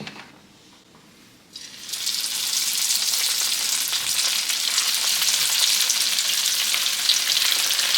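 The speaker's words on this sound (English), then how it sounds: "it's time to fry up our Kataifi shrimp" Kataifi-wrapped shrimp drop into hot oil after a quiet moment, setting off a loud, steady, close crackling sizzle that holds through to the end.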